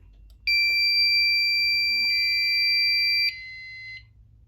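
A Fire-Lite MS-5UD fire alarm system sounds its vintage alarms during a test: a loud, piercing electronic tone holds steady for about three seconds, shifts briefly to a second tone, then cuts off abruptly.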